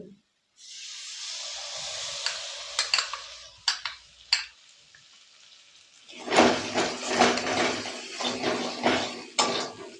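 Cashews, melon seeds and yogurt being stirred into fried spices, a hissing sizzle that fades out midway, then surges back louder with repeated spatula scrapes and clatter against the pan.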